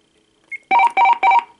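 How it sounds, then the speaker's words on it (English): The page tone of a vintage 1990 AT&T 5500 cordless telephone handset: a brief faint chirp, then three loud, evenly spaced electronic beeps close by in a quiet room. "Let me see if the page button works on this handset here."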